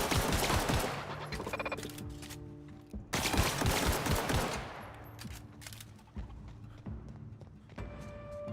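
Bursts of rapid automatic gunfire in the game The Outer Worlds come in dense volleys separated by short pauses, with electronic tones and mechanical clicks between the shots.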